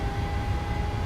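Boeing 737-800 jet engines in Microsoft Flight Simulator spool up to takeoff power, a steady loud roar with a constant whine, heard alone.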